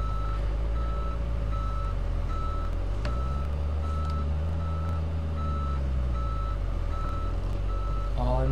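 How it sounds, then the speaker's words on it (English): Steady, regular electronic reversing beeps from a Kenworth W900 truck over a low engine rumble, continuous and fairly close, with no talking. "get ready for the beeping."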